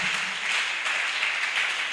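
A church congregation at a Sunday service breaks into steady, dense applause, a continuous wash of clapping from many hands that holds evenly at moderate loudness throughout.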